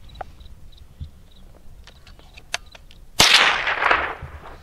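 A Rock Island TM-22 Feather Lite .22 rifle fires a single round: one sharp, loud crack with a short ringing decay, preceded by a few faint mechanical clicks and handling noises.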